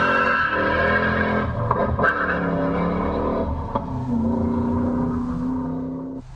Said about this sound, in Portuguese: o começo é um roncão aqui de motor